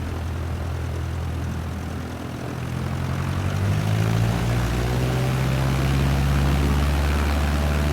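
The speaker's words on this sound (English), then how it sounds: "Cleared for takeoff runway 21 Cessna X-Ray Golf Sierra." Cessna engine in a flight simulator game revving up for takeoff, a steady propeller drone that swells louder and deeper partway through and holds at full power.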